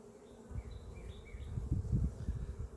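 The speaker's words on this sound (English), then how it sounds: "Now there's a big ball of bees right here" Honeybees drone in an open hive where a big ball of bees has clustered, a low steady buzz that swells louder and rougher midway, close to the ear, with faint higher tones drifting above.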